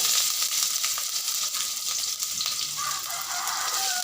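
Chopped onion with curry leaves and pepper frying in a pan, a steady close hissing sizzle throughout with faint scraping as it is stirred.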